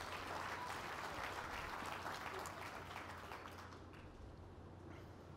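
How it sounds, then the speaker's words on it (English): Audience applause for volunteers coming on stage at a live talk, a dense, loud wash of clapping that holds steady, then thins slightly toward the end. "let's give these volunteers a nice round of applause"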